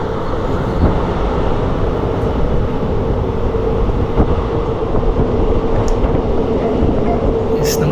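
A train running into Podanur station, with a steady loud rumble of wheels and carriages heard from on board, continuous throughout, and a few faint higher squeals near the end.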